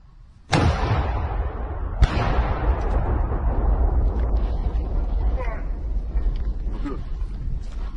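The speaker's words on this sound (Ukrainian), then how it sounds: "Постріл!" A weapon shot fired during a military ambush on a Russian vehicle convoy in Ukraine, 2022: a sudden loud blast followed seconds later by a second sharp report, leaving a long rumbling roar that persists to the end.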